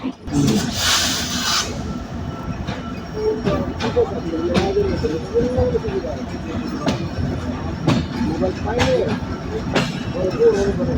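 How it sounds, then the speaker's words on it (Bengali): The Sundarban Express pulls out of Rajbari railway station at midnight with a loud, continuous rumble and rhythmic clacks and clicks of the wagons. Faint voices sit in the background. "মধ্যরাতে আমরা সুন্দরবন এক্সপ্রেস ট্রেনে করে ছেড়ে যাচ্ছি রেলের শহর রাজবাড়ি রেল স্টেশন"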